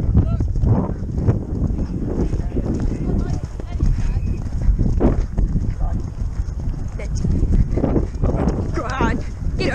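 Horse hooves clop steadily over outdoor ground at a novice team chase in Bicester while people talk and call out encouragement, with some wind noise on the microphone.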